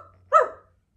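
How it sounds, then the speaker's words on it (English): A fox gives one short, sharp, dog-like bark, close and clear, standing alone against near silence. "The fox is a canine, and his sound is more like a dog."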